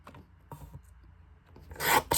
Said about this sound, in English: And now trim it in half at 3 inches.